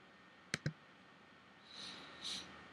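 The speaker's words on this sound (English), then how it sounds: "I'm going to click on that." Two quick, sharp computer mouse clicks close together, followed by a faint, soft hiss in an otherwise quiet room.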